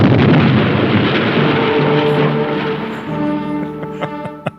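A laboratory explosion from the 1959 film Invisible Invaders roars as a loud, rumbling blast that slowly decays into crackling debris and a few sharp clinks at the end, with no talking.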